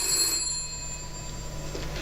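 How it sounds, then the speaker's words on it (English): An old telephone rings inside a house in a 1984 drama, a bright, sustained bell tone heard clearly and fairly close over a low steady hum. "Oh, you forgot to rip out the phone, Mr. Thorne."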